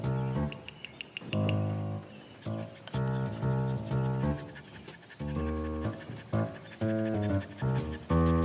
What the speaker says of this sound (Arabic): الكلب اهو